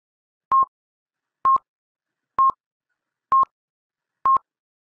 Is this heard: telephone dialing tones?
yes